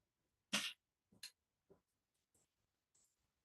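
A sneeze bursts out in a quiet courtroom, one sharp loud burst followed by a couple of smaller sniffly aftershocks and faint breaths.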